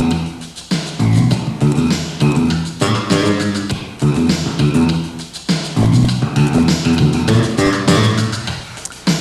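Finger-plucked bass guitar notes fall in the gaps between kick drum beats, a loud, close groove with punchy low notes repeating in a steady pattern.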